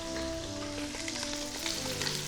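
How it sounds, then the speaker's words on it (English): Pheasant pieces sizzling and frying in hot oil in a pan, a steady crackling hiss with small pops throughout, close and with no voices over it. "when we add our pheasants into pan, we got that sizzle straight away"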